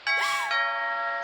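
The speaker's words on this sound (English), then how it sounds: "Ding dong." A doorbell in the video game What Remains of Edith Finch gives a single clear ding-dong chime that rings on and slowly fades, heard alone.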